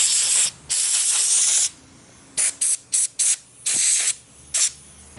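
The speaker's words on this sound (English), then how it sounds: "Clean them out, get any debris out of there, compressed air." Loud bursts of compressed air hiss out in blasts, clearing debris from holes in a Chevy 5.3 Vortec LS engine block: two long sprays, then several quick short puffs and a few more bursts, close by.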